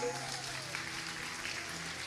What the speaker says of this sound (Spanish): Dale un poderoso aplauso a Jesús